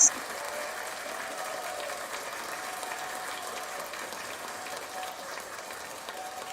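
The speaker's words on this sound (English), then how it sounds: "let's give applause to the judge" Applause from a crowd: a steady, even wash of clapping at moderate volume, continuous from start to finish with no voices over it.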